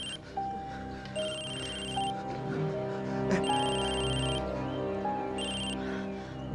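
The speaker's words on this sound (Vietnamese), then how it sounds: "Ôi điện thoại." A mobile phone ringtone rings indoors, a repeating melodic electronic tune that plays steadily over several seconds with faint background sounds and no speech.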